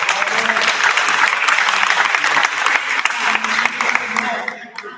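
A crowd at a presentation of the Falchetti futsal team gives sustained, dense applause for new signing Cornelio Grama, loud and steady before tapering off at the end.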